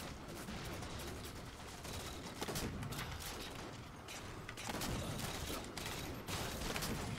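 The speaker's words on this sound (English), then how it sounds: "That's a shotgun." Shotgun blasts in the Halo 4 video game, Team Slayer mode, quiet bursts of gunfire scattered among other muffled battle noise.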